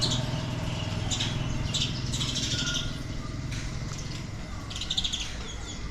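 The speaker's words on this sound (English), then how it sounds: "Small, loud birds." Small birds chirp in repeated sharp bursts over a dense, steady background hum of outdoor noise.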